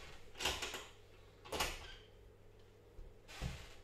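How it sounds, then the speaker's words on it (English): A snake enclosure door is shut and latched with a hook, giving three separate knocks and clacks spaced about a second apart, close by and fairly quiet against a faint background hum. "Close the door, hold it shut with the hook."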